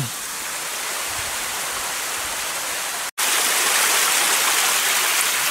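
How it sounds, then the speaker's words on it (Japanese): A mountain stream on an autumn hiking trail in Hiroshima runs with a strong volume of water, giving a steady, dense, close rushing roar throughout, with a brief cut partway through and no voices. "水の音"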